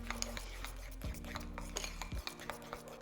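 Spoon scraping and clinking against a pan while carbonara is stirred, a few close metallic knocks and rasping stirs at an uneven rhythm.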